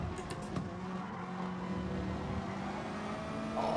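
Race car engine in the Gran Turismo Sport video game, a steady, smooth drone of power holding under throttle without a break, with no talking.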